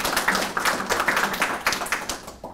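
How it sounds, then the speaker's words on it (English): A room of attendees at a networking event claps, a fairly close, uneven patter of individual hand claps rather than a dense roar, fairly loud and without speech. "we should all just give a special round of applause to Mr. Chris Hayes and our ambassador Petrovic"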